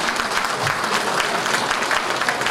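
Dense, steady applause from an audience at a business awards ceremony in Bucheon, South Korea, loud and sustained with no voices over it.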